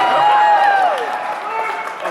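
Concert crowd at the Rock Hall in Cleveland applauding and cheering in a dense wash of clapping that slowly eases, with a bright whistle early on and voices talking over it.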